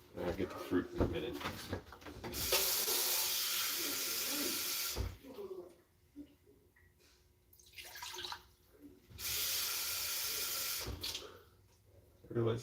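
Water gushes from a tap in two separate bursts of a few seconds each, with clattering and quiet handling sounds in between.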